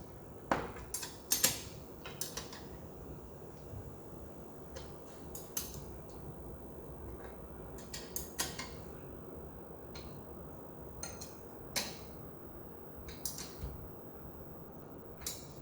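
Sharp metallic clicks and creaks from a 13mm spanner tightening downpipe locking fasteners on a Ford Focus RS Mk2, scattered in short irregular bursts over a low background hum, close and fairly quiet.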